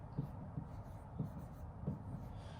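Chalk or marker strokes on a board come up quietly in a few separate scratchy bursts, spaced roughly every half second against a faint room background.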